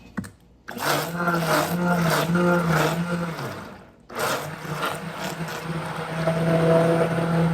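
A countertop blender whirs steadily while blending plant-based mayo. Its tone holds for a few seconds, breaks off briefly, then resumes at a similar level.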